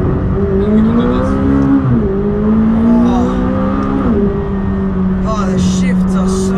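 A sports car in sport mode accelerating hard, its close, loud engine note climbing steadily and then dropping sharply at each quick gear shift, with several rapid upshifts in a row.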